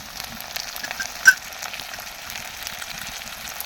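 Fish sizzles in a pan with spice pastes of onion, garlic, chili and cumin, giving a steady soft frying hiss with one brief clink partway through, and no one speaking.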